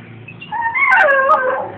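A dog whimpering close by in a short, rising whine with a few yipping squeaks, alone over faint background noise.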